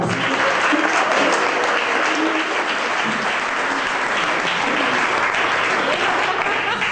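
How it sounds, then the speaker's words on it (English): An audience at a PechaKucha talk claps in a full, sustained round of applause that stays loud and dense throughout, with a hint of voices mixed in. "Let's give him a big round of applause."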